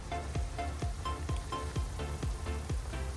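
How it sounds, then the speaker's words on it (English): Rain falls on a lake in a steady patter with a regular pulse of sharper drips or taps, close and fairly loud, with no one talking. "I don't know if you can see the rainwater on the lake, but it's raining."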